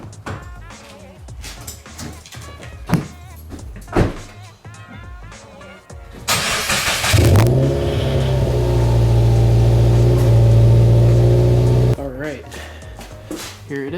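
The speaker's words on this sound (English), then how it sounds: "I'm gonna have to pull the car out of the garage." A 2018 Subaru WRX engine starts and idles loudly for several seconds as the car is pulled out of a garage, with talk before and after.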